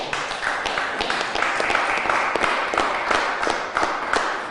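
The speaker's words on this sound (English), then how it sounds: "Let's give them a round of applause." Applause from the audience at a city leaders' COVID-19 update, steady scattered clapping with sharper individual claps throughout, at moderate level and without talk.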